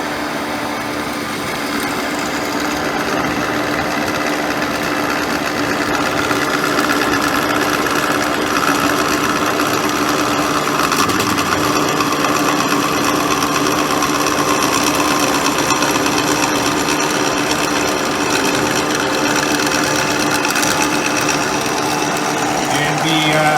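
A Kysor Amada H-450H horizontal band saw runs its blade drive while feeding, making a loud, steady mechanical whine and hum that continues without a break, with some faint shop noise.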